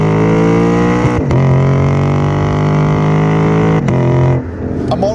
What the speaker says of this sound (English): those cars with their paltry 4 and 6 cylinder engines just don't sound like this NA V8